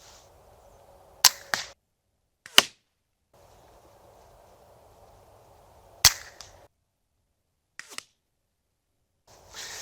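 A suppressed Ruger 10/22 rifle fires Aguila Colibri ammunition, heard from a distance as a few sharp, brief cracks separated by long quiet gaps, each shot standing alone.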